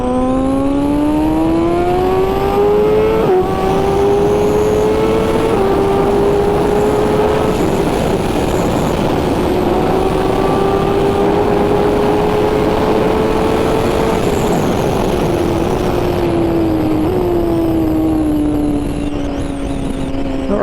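A 2021 BMW M1000RR with a BT Moto ECU flash accelerates hard from a second-gear roll at about 40 mph, its loud engine note climbing steadily in pitch, briefly dipping at a shift, then rising again and falling away near the end.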